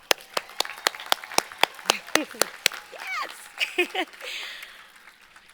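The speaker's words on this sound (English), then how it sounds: "acknowledge all the mothers here today for Mother's Day weekend with a round of applause" Sparse applause from a commencement audience honoring mothers on Mother's Day weekend, a handful of separate, sharp claps at first, then a voice calls out and other voices join as the clapping fades.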